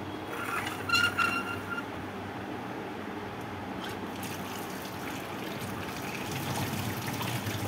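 Tap water runs steadily while tomatoes are washed by hand in a home kitchen, a continuous trickle and splash with brief clatters near the start, fairly close and without speech.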